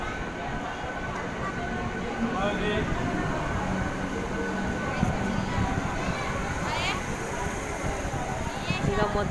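Busy platform ambience at Lingampally railway station, with a steady roar of crowd chatter, footsteps and distant train or rail noise running throughout at an even level, and people talking all around.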